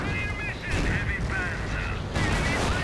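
Battle noise from a World War II strategy video game, with Panther tanks firing, rumbles and booms in dense, overlapping bursts under a commentator's fast speech.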